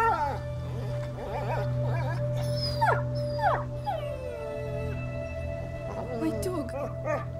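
A video game dog whimpers and whines in rising and falling high cries, several short bursts over a steady low hum.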